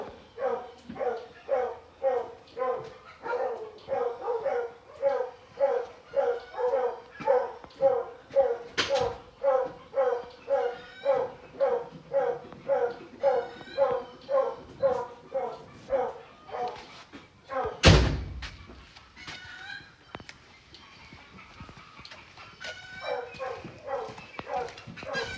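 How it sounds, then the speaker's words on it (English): A dog barks repeatedly and steadily at close range on a cattle farm, a long run of evenly spaced barks with a brief louder knock partway through and quieter sounds afterward. "The dog that's barking"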